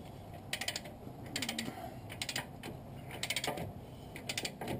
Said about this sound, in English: So now we can torque all this stuff together and work on the other side.